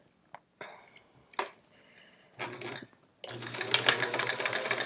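A sewing machine stitching quilt pieces for an improv chevron quilt runs in short, quiet bursts with pauses between, then settles into a longer continuous whirring run near the end.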